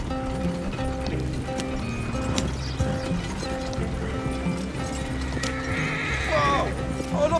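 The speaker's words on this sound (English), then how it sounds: "Hay muchos más caballos también." Horses in a video game whinnying and neighing over quick clip-clopping hooves, with a loud neigh near the end, set against a steady rumbling game background.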